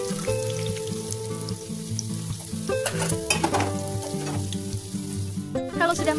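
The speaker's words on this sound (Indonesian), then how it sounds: "Sekarang goreng dulu tempe dan tahunya." Tempeh and tofu sizzle and crackle in hot oil, a steady frying hiss broken by bright pops and spatters, with faint background music.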